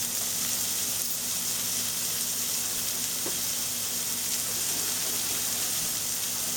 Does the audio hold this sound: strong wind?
no